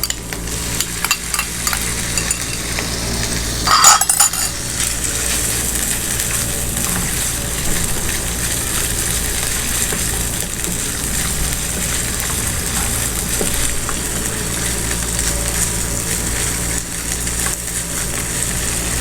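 Chicken frying in a pan after garlic and ginger paste cooked in butter, giving a continuous close sizzle with stirring scrapes and one brief louder clatter near the start, with no voices.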